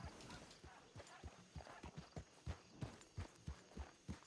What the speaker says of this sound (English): it's just a horse in a video game